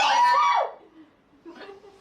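A Japanese woman lets out one sharp, loud sneeze up close, followed by a quiet pause and a faint voice.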